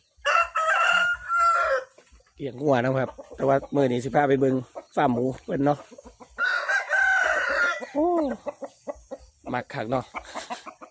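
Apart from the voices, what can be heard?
fighting rooster crowing and clucking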